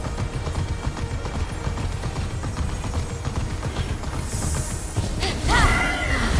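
A summoned horse mount in Immortals Fenyx Rising gallops with rapid, rhythmic clip-clop hoofbeats under game ambience, followed by a brief whoosh and crash near the end.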